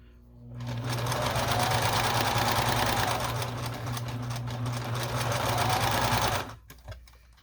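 A sewing machine stitching a quilt border seam with a brief back tack, a steady loud motor whir and rapid needle chatter running about six seconds before stopping abruptly.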